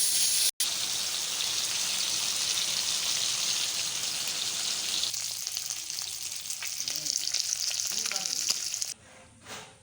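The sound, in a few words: rohu fish frying in oil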